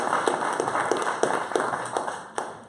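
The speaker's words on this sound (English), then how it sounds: "So give him a round of applause." An audience at an AWE Nite SF augmented reality meetup claps for a presenter. The applause is moderate and fairly close, with distinct individual claps that taper off toward the end.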